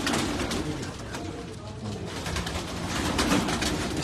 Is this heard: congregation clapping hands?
no